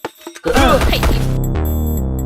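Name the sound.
cartoon car crash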